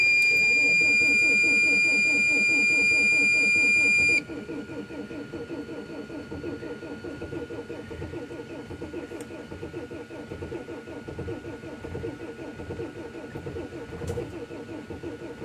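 A diesel engine with one glow plug cranking on ether at -6 °F: a dashboard chime beeps for about four seconds, then a steady rhythmic cranking churns on without catching, with a voice talking over it.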